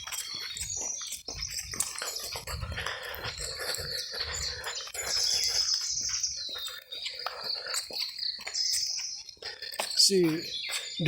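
Birds calling in an open Goa village setting during the rainy season, chirps and tweets scattered throughout at mid distance, with someone talking over them.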